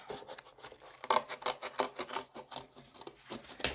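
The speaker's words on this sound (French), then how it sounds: "Je découpe un bout de carton." Scissors cut through a small piece of cardboard for a craft project, a quiet, close series of rhythmic snips and rasping scrapes.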